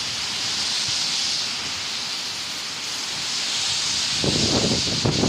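Strong wind gusting at about 20 m/s during a flood storm in Golubitskaya, a steady broadband roar and hiss filling the whole clip, with rougher low buffeting thumps near the end and no voices.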